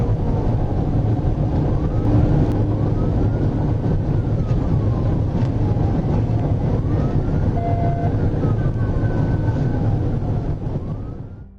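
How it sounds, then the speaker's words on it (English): A suspect car speeds at over 130 mph during a police chase on a highway, heard as a continuous loud rushing road and engine roar with a wailing siren weaving through it, fading near the end. "The suspect vehicle took off at over 130 miles per hour, recklessly using the shoulder to pass other drivers"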